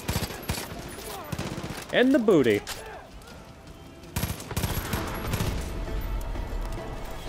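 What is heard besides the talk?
gunfire in the video game Far Cry 5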